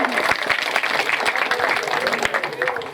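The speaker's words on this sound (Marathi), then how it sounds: "या कलाकारासाठी एकदा जोरदार टाळ्या" An audience at a women's special quiz and antakshari competition, organised by a village development board, applauds a child dholki player. The clapping is dense and lively for about three seconds, with voices heard over it.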